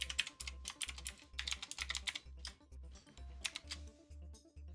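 Password typed on a computer keyboard, quick irregular bursts of key clicks with short pauses between groups, close and fairly quiet, no talking.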